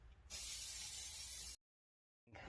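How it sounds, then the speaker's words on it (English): A steady spray-adhesive aerosol hisses loudly for about a second, cuts off to silence, then a short burst starts again. "Give it a shake and give it a spray."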